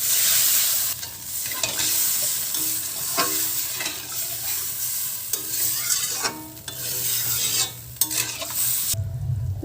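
Spiced potatoes sizzle and fry in a pan while water goes in and the mix is stirred. A steady hiss and bubbling carries throughout, with scraping stir strokes, and the sound cuts off abruptly near the end.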